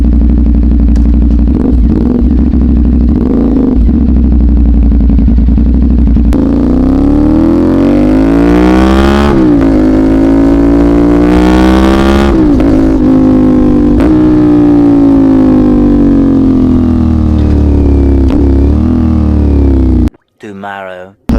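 A warmed-up CFMoto 450NK twin motorcycle engine idles loudly and nearby at night, then is blipped through several rising and falling revs before settling, and the sound cuts off abruptly at the end.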